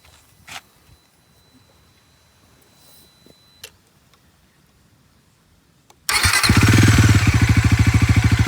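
A Bajaj Pulsar NS400 motorcycle in neutral sits silent apart from a few faint clicks, then its engine starts abruptly and settles into a loud, rapid, pulsing exhaust idle close by.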